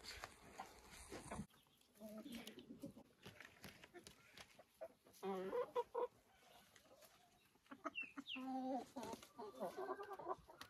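Chickens cluck in short bursts around a coop with chicks and a turkey, the calls coming in several close clucking runs, with someone speaking softly between them and faint rustling in the background.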